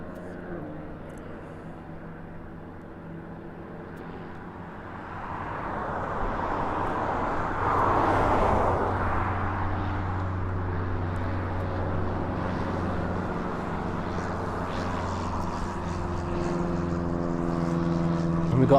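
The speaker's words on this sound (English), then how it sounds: "we've got another light GA aircraft taxiing, taking off now as well" A light general aviation propeller aircraft taxiing and taking off at an airport, the engine drone building from moderate to louder and steady, heard at a distance with faint wind.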